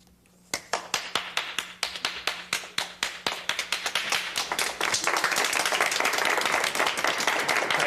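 Classroom applause for a teacher, starting with distinct separate claps that quickly thicken into dense, steady clapping from a group, fairly loud and close, with no talk over it.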